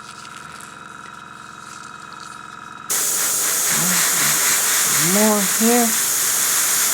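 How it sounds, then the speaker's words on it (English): An airbrush sprays paint onto a miniature, a sudden steady close hiss that begins partway through after quieter background noise, with a brief spoken comment and some tonal squeaks over the spray. "This is the airbrush work."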